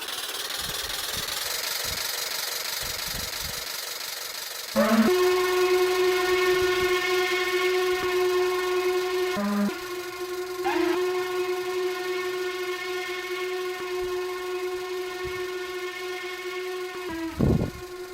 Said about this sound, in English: At last the train is finally good to go.